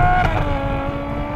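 A Ferrari 812 Superfast's engine drones steadily and fairly loud while the car drives, its harmonic tone sliding slightly in pitch over a brief stretch.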